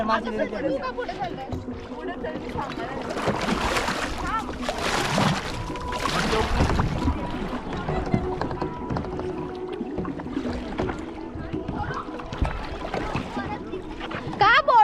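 A boat moving on the sea off Khavane beach in Konkan, with a steady rush of engine and water, splashing and sloshing, while people talk over it throughout.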